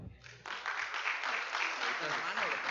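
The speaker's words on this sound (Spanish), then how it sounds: "A quien les pido que le brindemos un fuerte aplauso," An audience at a round-table panel on fiscal reform breaks into applause, a broad wash of clapping that starts after a brief moment and holds steady and fairly loud, with a voice faintly underneath.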